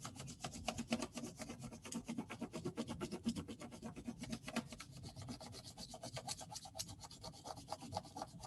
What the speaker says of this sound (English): I'm very lightly going to rub my crayon over top of all of the leaves.